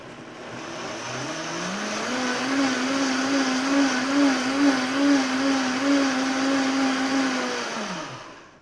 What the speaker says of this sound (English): The longer you blend it, the more slimy your oat milk's going to be